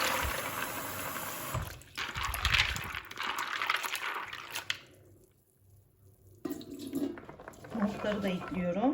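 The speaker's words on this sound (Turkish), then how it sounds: "Şöyle nohutumuzu da hemen yıkayalım." Tap water runs over chickpeas being washed in a kitchen sink, a steady splashing gush with brief pauses and a drop-off midway before the flow resumes.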